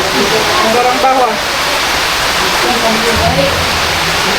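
Heavy rain pours down steadily in a dense, unbroken hiss that stays loud throughout, with faint voices half-buried beneath the downpour.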